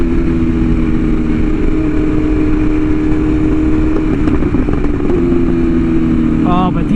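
A BMW S1000RR sportbike with an aftermarket exhaust drones steadily and loudly at close range while riding, with a sharp blip near the end as it downshifts.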